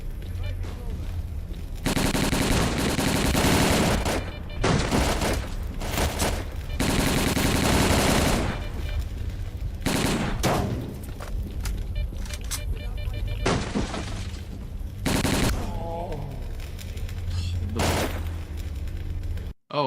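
Machine-gun bursts and gunshots in the shooter S.T.A.L.K.E.R.: Clear Sky come as several long, loud automatic volleys broken by short gaps, with some talk in between.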